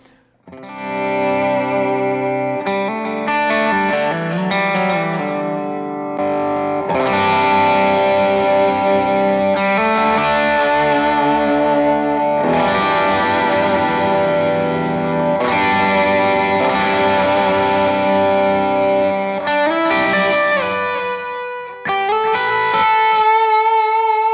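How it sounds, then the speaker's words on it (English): Electric guitar through a high-gain overdrive pedal plays sustained chords and melodic lines, thick and saturated, steady and loud throughout with no voice. "This is the highest gain overdrive on my board"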